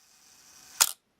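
A Chinon SLR camera firing its shutter at the one-second setting: faint mechanical whir, then a single sharp snap of mirror and shutter, up close and alone, followed by silence.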